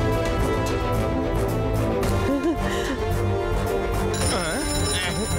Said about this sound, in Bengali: আমাকে লাড্ডু সিং স্যারকে ফোন করে হেল্প চাইতে হবে।